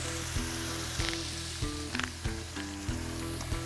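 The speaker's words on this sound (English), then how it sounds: "You can hear that nice sizzle on there." Steak sizzles steadily in olive oil in a hot pan, a dense close hiss broken by small pops and crackles, with no one talking.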